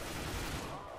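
Rapid gunfire in the video game CS:GO, a dense burst of shots that runs through the whole short moment at a steady, fairly loud level.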